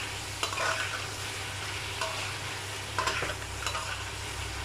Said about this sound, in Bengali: এখন একটু নেড়ে চেড়ে